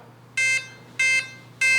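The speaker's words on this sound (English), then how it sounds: "we're going to listen for the beeps" Three short electronic beeps from a model plane's speed controller arming repeat at a steady pace, each a bright buzzy tone over a faint low hum.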